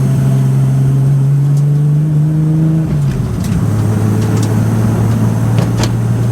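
A big-turbo Nissan Skyline R33 pulls hard on a street, its engine drone rising steadily before a gear change near the middle, then climbing again with a loud, close, continuous roar and faint turbo whistles above.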